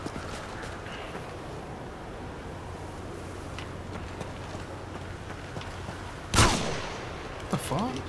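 Video game gunfire crackles in the background under a steady low hum, with one loud close shot bursting out near the end and another sharp report shortly after.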